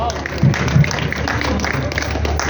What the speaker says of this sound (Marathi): त्याबद्दल जोरदार टाळ्या